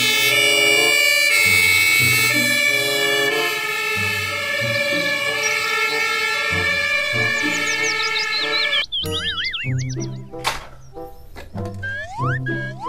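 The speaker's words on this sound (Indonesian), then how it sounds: "Mobil truk pemadam." A toy fire truck siren wails loudly and continuously with a layered electronic tone, then switches to shorter warbling whoops and chirping electronic effects near the end.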